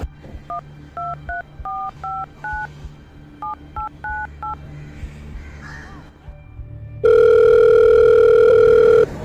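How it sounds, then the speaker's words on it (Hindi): A phone keypad is dialed in a short film, giving a series of paired beep tones in quick clusters, followed by a loud, steady line tone that sounds close. "फोन ही करना पड़ेगा।"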